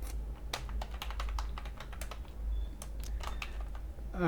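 Rapid clicking keystrokes on a computer keyboard while VBA macro code is typed, a steady run of close, crisp taps with no voices.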